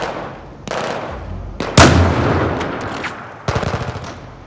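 Gunfire from a sniper rifle in Battlefield 4 on the Singapore level: several sharp, loud shots, one especially strong crack near the middle, followed by a short burst of rapid fire toward the end.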